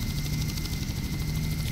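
A helicopter in the game Just Cause drones steadily up close, with a dense low rotor and engine rumble and a constant thin high whine throughout, no talk.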